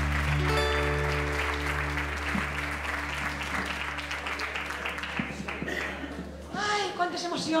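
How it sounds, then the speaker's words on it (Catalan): An audience at a women's award ceremony in Almassora claps for an honoree, a loud spread of applause under sustained musical tones that fade, with a voice speaking near the end. "Un fort aplaudiment per a Mayra."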